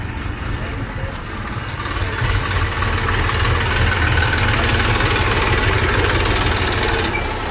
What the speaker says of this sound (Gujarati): સાગર ટ્રેક્ટર લઈને જાય છે